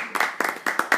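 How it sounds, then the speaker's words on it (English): A small group claps for presenters after a percussion session, a brief burst of several distinct sharp claps in an uneven rhythm, close and fairly loud with no one talking over it. "give them a round of applause"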